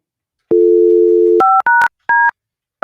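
A phone call begins with a steady dial tone, followed by a quick series of short two-pitch keypad beeps as a number is punched in, loud and clean with no voices.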